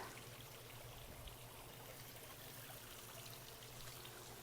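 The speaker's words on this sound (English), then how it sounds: "watch the flow of water and the sounds of the" Water flows in a steady, soft rush from small waterfalls at Sky Lake, heard from a short distance, quiet and continuous with no voices.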